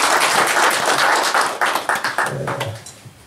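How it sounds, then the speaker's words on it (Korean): An audience at a monthly club meeting claps in a dense burst that thins into fewer, separate claps as it dies away, close and fairly loud. "박수 한번 더 주세요."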